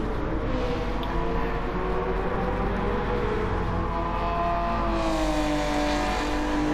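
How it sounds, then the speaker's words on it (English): A 1973 GTR race car engine in a racing game holds a loud, steady, aggressive drone close by, its pitch climbing slightly as it revs harder toward the end. "Car sounding really nice and aggressive"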